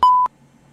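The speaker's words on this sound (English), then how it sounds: "Leave your message after the beep." An answering machine gives a single clear electronic beep, a pure steady tone lasting about a quarter second, followed by a short click and near silence.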